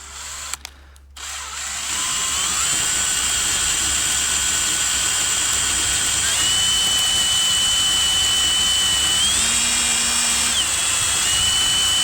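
A power drill spins steadily to rewind 3D printer filament onto a spool. It starts after a couple of brief knocks, then a loud continuous whine holds for the rest of the clip, with its pitch stepping up and down slightly.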